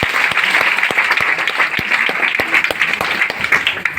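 Audience applause at a DXN gathering: a steady, dense burst of many hands clapping together, loud and close, with sharp individual claps standing out, continuing for several seconds without talk.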